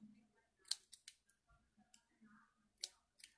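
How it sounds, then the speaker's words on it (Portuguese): Scissors snip through crochet yarn in a few sharp, quiet clicks close by, with faint rustling between the cuts. "deixa eu cortar aqui o meu fio"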